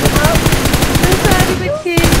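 Rapid automatic gunfire from a mobile battle game, a loud close rhythmic stream of shots repeating without pause, broken by a short gap near the end, with faint game sounds underneath.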